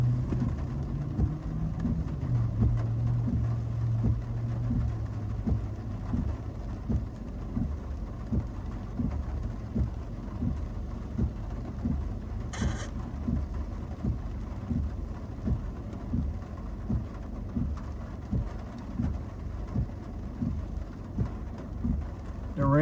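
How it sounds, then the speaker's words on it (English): Rain falls steadily in a low, rumbling wash, with a soft rhythmic pulsing underneath and one brief sharp knock midway; no one speaks. "The rain is good, man."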